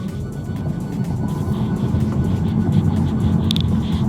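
A Tesla Model 3 Performance accelerating hard in a timed run, a steady loud rushing roar of wind and tire noise that builds slightly, with a brief high chirp near the end and no speech.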